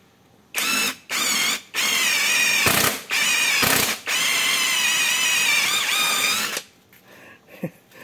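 An impact wrench converted into a cordless drill bores into tough mahogany, its motor whining loudly in several long, strained bursts separated by short pauses, then trailing off into a few quiet clicks.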